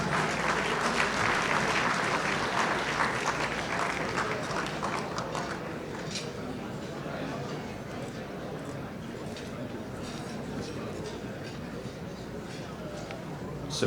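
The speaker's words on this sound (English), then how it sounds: "Please give him a round of applause." An audience applauds for PASOK president Androulakis at a Greek parliamentary celebration, dense sustained clapping that starts loud and gradually thins and softens over about fourteen seconds, with voices faintly mixed in.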